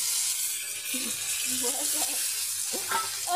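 Cumin seeds frying in hot oil in a pan on a wood-fired clay stove, a steady bright sizzle running throughout with faint low voices murmuring underneath.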